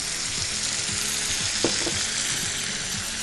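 Large tomato pieces dropped into hot oil in a frying pan, a steady loud sizzle and crackle close by with a brief splash and stir midway, no voices.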